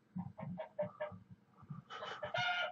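A farm rooster clucks in a quick run of short calls and then breaks into a louder, drawn-out crow, heard close by with no one speaking.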